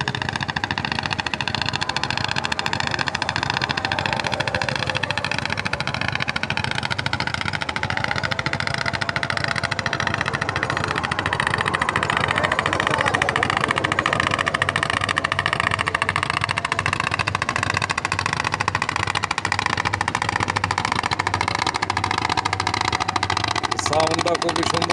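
A trawler boat's engine drones steadily and continuously on the Balu river in Munshiganj. People talk over the engine the whole time.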